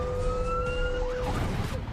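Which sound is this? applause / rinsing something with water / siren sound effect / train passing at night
siren sound effect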